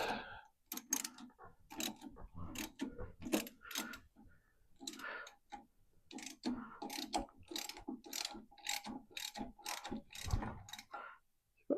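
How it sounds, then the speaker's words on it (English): A ratchet loosens a bolt on an old Volkswagen Super Beetle, giving quick bursts of sharp clicking strokes in repeated runs with short pauses between them, close and clear. "Let's get the ratchet. Get that the rest of the way."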